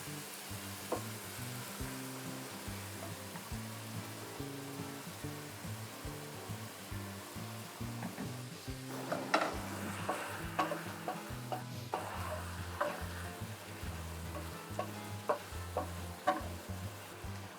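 Chicken pieces frying in a pan for chicken Florentine pasta, a steady close sizzle with faint stirring clicks and scrapes, louder crackling bursts in the second half.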